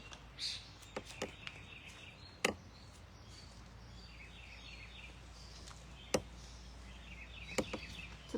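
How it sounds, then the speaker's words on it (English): Scattered short bird chirps ring out at intervals over a quiet outdoor background, a few sharp calls standing out from soft ambient noise. "Just hear the birds singing."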